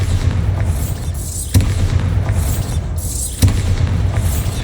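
Two heavy Bombarda spell blasts from Hogwarts Legacy go off about two seconds apart, each a deep booming explosion rising over a constant low rumbling battle ambience.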